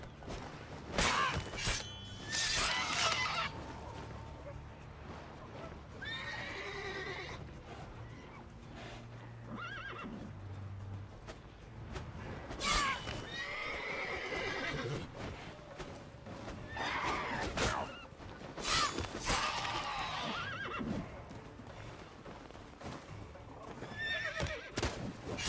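A horse in the video game The Witcher 3 neighs and whinnies several times amid hoof clatter, combat clashes and game noise, all fairly loud and busy.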